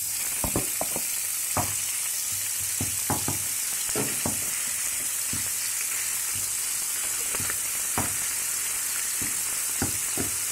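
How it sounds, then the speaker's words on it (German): Minced meat for lasagne Bolognese sizzles and crackles steadily in a hot pan as it is broken up, with occasional scraping and stirring knocks from a utensil. "Schön klein machen und anbraten."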